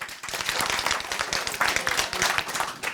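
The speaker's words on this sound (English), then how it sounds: "Everyone give Ed a round of applause." An online marketing event audience gives a brief round of applause, with steady scattered clapping lasting a few seconds and no voices on top.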